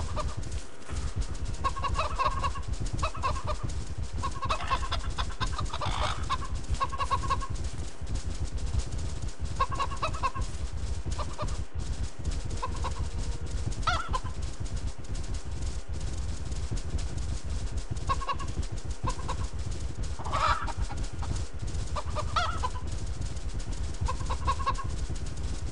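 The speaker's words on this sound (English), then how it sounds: "chicken chasing" Chickens cluck in short, scattered bursts while being chased in the Cow Simulator 2014 video game, the calls recurring over a steady background hiss, with no talking.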